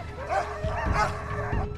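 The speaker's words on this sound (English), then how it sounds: "The polar bear encountered a dog, which began to bark as a warning." A dog barks in warning at a polar bear, giving a few quick, close barks and yips in a short burst.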